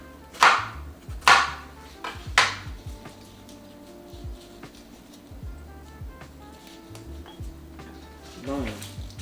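A kitchen knife chops garlic on a cutting board in three sharp, loud strikes at the start, followed by quieter clatter and low hum, with a brief noise near the end.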